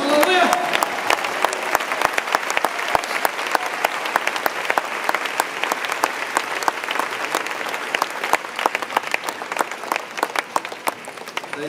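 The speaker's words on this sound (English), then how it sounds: "Let's clap our hands to Jesus." A church congregation claps their hands in praise to Jesus, a dense, steady wash of many hands filling the room, with voices mixed in.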